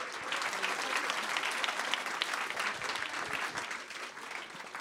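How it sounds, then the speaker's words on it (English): Audience applause for students at an evening youth showcase event, a dense, even wash of many hands clapping that holds steady throughout, heard from some distance and fairly quiet. "And a big round of applause to all of our students."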